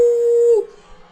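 A human voice imitates a jackal's howl with one short, steady, held tone of under a second that ends abruptly, clear and close in an otherwise quiet setting.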